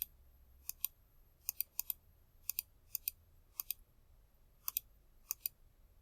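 Sharp, faint computer mouse clicks come in quick pairs, about a dozen spaced irregularly across a quiet room.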